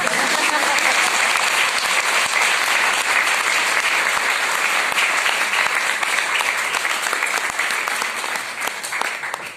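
Audience at a women entrepreneurs' budget meeting breaks into applause, steady dense clapping with some sharper individual claps standing out, sustained at an even level and tapering slightly at the end.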